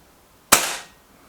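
A Reximex Accura air rifle with a walnut stock fires a single shot. It is a sharp, loud crack with a brief fading tail, isolated against near silence.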